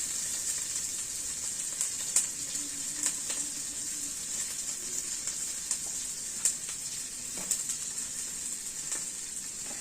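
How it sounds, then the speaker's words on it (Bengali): Onion, garlic and chili sizzle in hot oil in a pan, a steady high hiss with scattered soft pops and occasional stirring clicks, no voices. "পেঁয়াজ রসুন মরিচ এগুলো একসাথে দিয়ে দিলাম"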